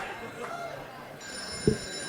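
A telephone rings over a speakerphone during a live comedy show, quiet and a little muffled beneath room noise, with one brief thump near the end.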